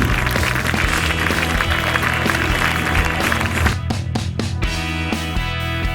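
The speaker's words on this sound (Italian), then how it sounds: "un grande applauso per accogliere Eleonora" An audience at the Miss Città Murata 2017 beauty pageant final applauds to welcome a contestant, a dense clapping wash mixed with loud stage music throughout.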